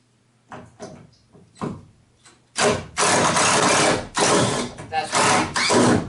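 Screws are driven into basement wall framing, with a few quiet taps and handling noises followed by several loud, buzzing driver bursts separated by brief pauses.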